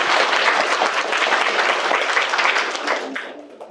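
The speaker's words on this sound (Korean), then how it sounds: "박수 한번 주세요." Warm, sustained applause from an audience at a lecture for parents in Busan, steady dense clapping that fades out toward the end.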